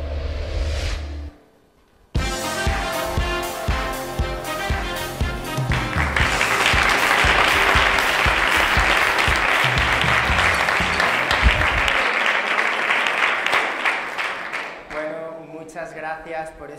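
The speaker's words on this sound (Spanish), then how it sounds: "Aplausos espontáneos que os han salido, ¿verdad?" Spontaneous audience applause during a science talk on mass protein production with bacteria, steady dense clapping that swells and holds for over ten seconds before thinning, following a brief sound and short pause.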